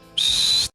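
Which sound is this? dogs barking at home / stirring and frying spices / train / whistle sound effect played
whistle sound effect played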